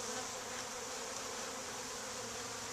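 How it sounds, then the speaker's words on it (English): Dense, steady buzzing of a mass of Africanized killer bees at an opened hive after smoking, close and continuous for the whole stretch with no voices. "you can see these guys are killer bees"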